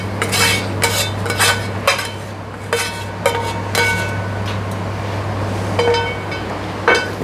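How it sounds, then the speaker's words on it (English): Bacon aglio pasta is plated in a restaurant kitchen, with metal utensils clinking and scraping against a dish in irregular taps over a steady low hum. "Now all we got to do is plate it"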